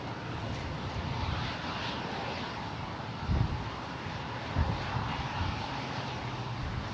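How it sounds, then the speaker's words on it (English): A SkyWest Embraer 175 LR jet arrives at San Jose airport, heard as a steady, broad engine roar at a moderate distance that holds for the whole stretch. A couple of brief low bumps rise out of it, and no one speaks. "here's Skywest 3460 coming in from Austin, Texas. Embraer 175 LR."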